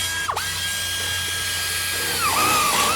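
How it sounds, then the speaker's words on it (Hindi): A high-pitched drill whines as it bores into a human skull during trepanation, its pitch dipping and swooping as it bites in. A short burst is followed by a longer grinding whine over a low steady hum, with no speech. "जरा सोचो एक इंसान की खोपड़ी में ठीक यहां पर ड्रिल कर दिया जाए"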